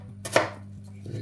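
Knife chopping butternut squash into cubes on a cutting board, a couple of quick close thuds, no talking.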